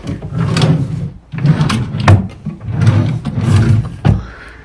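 A drawer slides open and shut several times in a bedroom or hotel room, with a series of close, loud wooden rolls and knocks in bursts.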